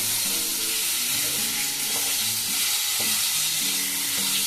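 Spice masala for doi chingri, a prawn curry in yogurt, sizzling steadily in hot oil in a pan, a constant close frying hiss with a low muffled hum beneath.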